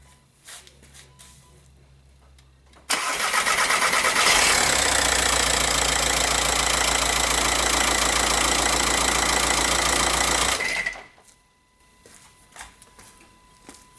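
A 2006 VW Jetta TDI diesel engine cranks and fires abruptly, then settles into a loud, clattering idle for several seconds before shutting off, with quiet workshop sounds before and after.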